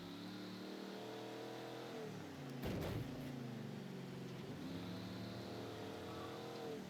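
A car engine in the video game Mafia III: Definitive Edition hums and revs up and down, with a sharp burst midway, close and fairly loud, no talking.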